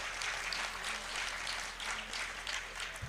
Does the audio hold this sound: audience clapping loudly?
yes